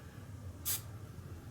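A spray can lets out one short, sharp hiss of paint onto a Brummbar model. The single quick burst stands alone against a quiet room background.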